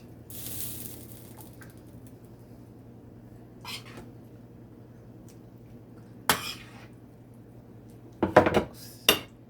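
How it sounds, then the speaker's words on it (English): Stewed saltfish with coconut is plated, with a few sharp clinks and scrapes of dishes and cutlery spaced out over a quiet background, the clatter busiest near the end. "now I'm gonna plate my saltfish stew, and this is stew saltfish and some coconut"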